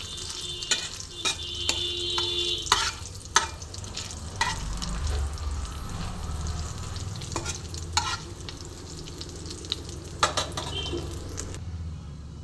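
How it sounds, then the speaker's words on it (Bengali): Cumin seeds and dried red chillies fry in a pan for cumin chicken, a steady crackling sizzle broken by repeated clacking spatula strokes against the metal, close and with no one speaking. "আমি জিরে আর শুকনো লঙ্কাটা ভালো মতন ভেজে নিয়েছি"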